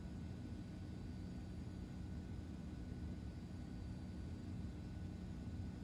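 Airliner back taxiing on a runway in a flight simulator game, a steady low engine rumble and hiss holding constant throughout with no voices.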